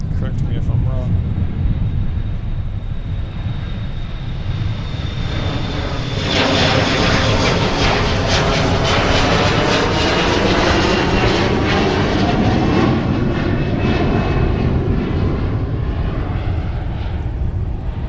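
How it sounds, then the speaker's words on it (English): Gulfstream business jet landing with bucket-type thrust reversers deployed, a loud, sustained roar that swells and rushes through the middle of the passage and holds steady, with speech from an airport live broadcast heard faintly over it. "fancy schmancy Gulfstream like that would have a more sophisticated reverser, but hey, those buckets, tried and true"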